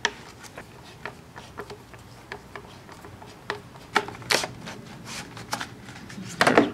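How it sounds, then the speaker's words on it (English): Hand-unscrewing bolts on a car's air filter housing, a series of sharp light ticks, clicks and ratcheting scrapes at irregular intervals, close and fairly loud, ending in a louder clatter. "And just unscrew these bolts and slide those out."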